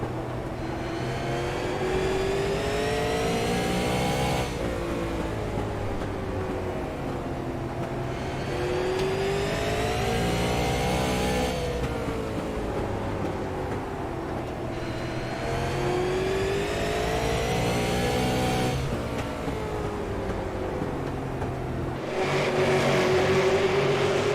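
Stock cars race on a short track, their engines droning loudly and steadily, swelling and fading in repeated waves as the pack sweeps past again and again.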